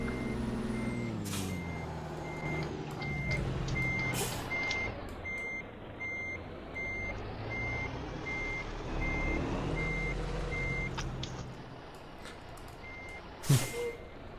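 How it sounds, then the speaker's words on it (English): Steady electronic backup beeper of a truck in American Truck Simulator, pulsing at an even rhythm over a constant diesel engine drone, with a brief air-brake hiss near the end; no talking. "it also had like a custom backup beeper, like a reversing sound"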